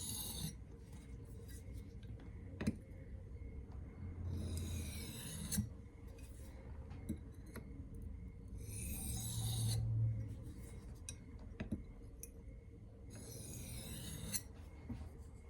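A 4V steel custom knife is sharpened freehand with very light passes, making soft rasping strokes in short bursts about every four to five seconds, separated by quiet pauses and faint handling noise.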